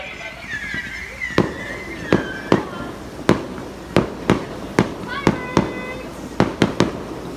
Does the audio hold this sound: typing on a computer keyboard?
no